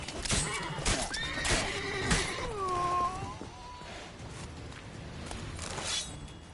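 Bandits' horses in The Witcher 3 whinny loudly several times in close succession, clear rising and falling neighs near the listener with some hoof clatter, then the scene settles into quieter background noise.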